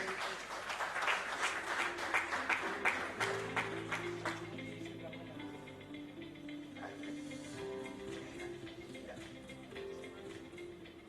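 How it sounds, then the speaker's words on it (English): Audience applause at a BNI industrial conclave welcoming a panelist, a dense wash of clapping that fades after a few seconds into a sustained musical tone with hall ambience underneath. "A big round of applause."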